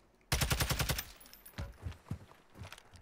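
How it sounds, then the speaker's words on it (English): Call of Duty gunfire: a rapid automatic burst of about a dozen shots, loud and punchy, followed by scattered single shots and in-game footsteps at lower level. "I was just testing his gun."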